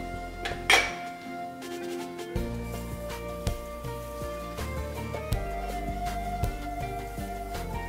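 Semolina and sugar stirred into hot milk in a kitchen pan: a spoon scrapes and clinks against the metal in irregular taps and knocks, with one sharper clatter near the start, all at close range and with no talk.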